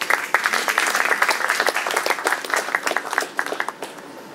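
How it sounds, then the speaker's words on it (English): An audience at an internet-industry forum gives a big round of applause as a moderator is called up, a lively patter of many hands that holds steady and then tapers off toward the close. "Please give a big round of applause."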